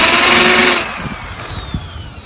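A power drill fitted with a 316 drill bit, boring holes while building temporary sidings, whines loudly and steadily for under a second before stopping, followed by a few soft knocks.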